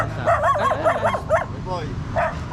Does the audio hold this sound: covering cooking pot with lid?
no